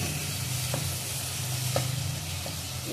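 Chopped tomatoes cook down in a hot pan for aloo palak bhaji, giving a steady close sizzle broken by a few soft stirring taps, with no voices.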